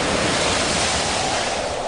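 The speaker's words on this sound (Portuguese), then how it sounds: "começou a soprar um vento muito forte e as ondas arrebentavam com tanta força em cima do barco" Heavy waves crashing and strong wind roar together in a dense, loud, continuous surge of stormy sea noise around a boat.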